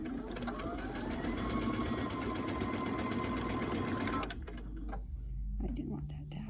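Sewing machine stitching a quilt block, a steady continuous motor whir running loud and close for about four seconds, then stopping abruptly, followed by light handling clatter.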